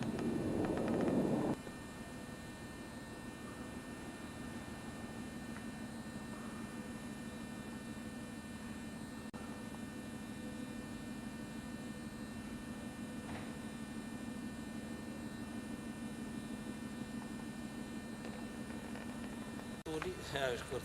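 A steady, low drone of airplanes from Bergen airport hums in the distant background through the whole stretch, with a brief louder rustle or bump at the start and no clear talking.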